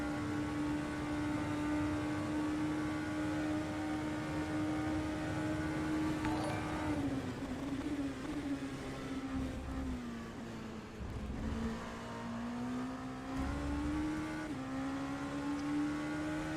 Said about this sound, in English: We're in an LMP2 and I am in the number 444 by Curlis Burst Sport.